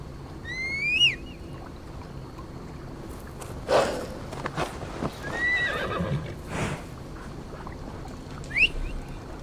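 Video game horse whinnies in Assassin's Creed Valhalla ring out several times over a quiet background, with soft hoof clops in between.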